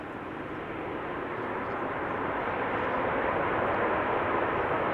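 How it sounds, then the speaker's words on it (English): Air Transat A321neo jet landing, heard as a loud, steady broadband roar of thrust reversers that holds constant and swells slightly over the full five seconds, with no voices. "More reverser action."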